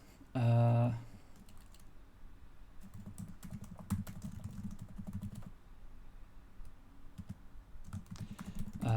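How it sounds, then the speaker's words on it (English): Live typing on a computer keyboard comes as bursts of quick, light clicking keystrokes, close and steady, with pauses between runs and a brief louder sound near the start. "I'm typing live on stream."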